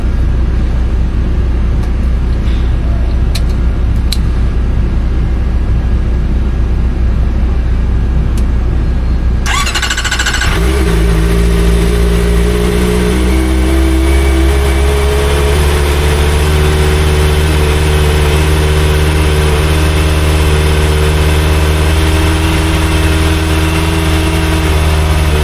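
A Kawasaki ZX4RR motorcycle fitted with a homemade silencer cranks and fires up after a quiet stretch, then settles into a steady, loud, close idle with a high whine over the engine hum.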